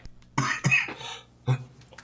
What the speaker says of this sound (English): And a cough.